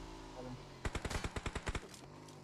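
A rapid burst of about a dozen automatic gunshots rings out in PUBG Mobile, loud and evenly spaced, over a steady background hum of game ambience.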